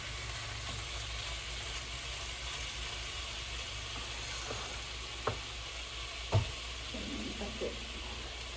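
Steady sizzling of beef frying in a hot pan, with a few brief scrapes and clinks of stirring.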